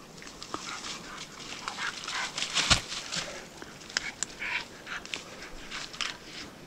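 A hunting dog being caught during a moose hunt, heard as short, close dog vocalizations with one sharp loud burst midway, amid rustling and scattered clicks in an outdoor setting.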